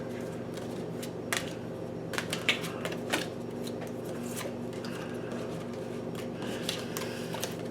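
Tarot cards being shuffled by hand, faint papery riffles and soft snapping flicks in an irregular rhythm, close and quiet with no talking.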